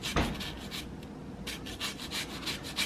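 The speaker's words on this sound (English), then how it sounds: "and then zest so it drops right in the bowl" A lemon is rubbed against a zester over a bowl, giving soft, rhythmic scraping strokes in short bursts, close and quiet with a pause in the middle.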